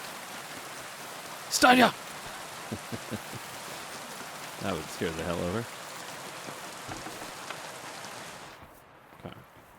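Steady rain pours outside a hut in the game Kingdom Come: Deliverance 2, a constant close hiss under a man's brief excited speech and a few scattered knocks before it suddenly cuts off.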